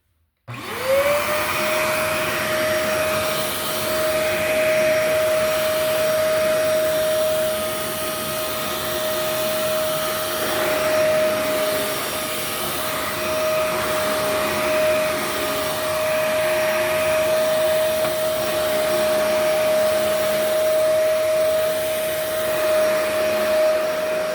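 A Kenmore vacuum cleaner starts up and runs loud and steady for the whole stretch, holding a constant whining tone over a broad roar with no talking.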